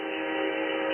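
A steady, continuous train horn holds without a break, sounding filtered and narrow as heard through an SSB radio receiver on 27.365 MHz LSB.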